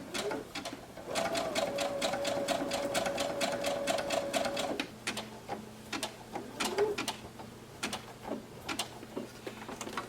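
A sewing machine runs a zigzag test stitch on applique, a rapid steady mechanical clatter for a few seconds, then slower, looser ticking and clicks as it stops and restarts.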